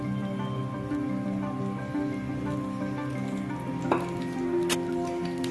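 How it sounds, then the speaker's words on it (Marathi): Oil heats in a pan to temper cumin and garlic paste for rajma masala, a low steady sizzle with faint crackling pops and a sharper spit or two near the end, close and without speech. "आता आपण याला फोडणी देऊन घेऊया।"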